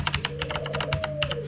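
Quick, clacky keystrokes on an Ione Scorpius 35 retro mechanical keyboard, about a dozen sharp taps in an uneven typing rhythm, close and clear.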